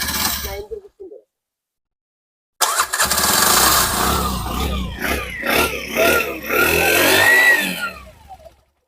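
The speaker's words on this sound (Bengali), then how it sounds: "গাড়ির ইঞ্জিনের সাউন্ডটা শুনে দেবো" A 2021-model CNG auto-rickshaw engine cranks and catches after a silent pause, then runs steadily and loudly with a rough, pulsing idle close by.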